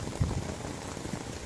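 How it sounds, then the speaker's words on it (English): Steady rain patters on the thin fabric of a Lightheart Gear ultralight tent at night, a soft continuous hiss with a few heavier drops near the start, heard from inside. "It's raining really good now."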